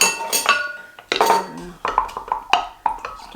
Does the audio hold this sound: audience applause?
no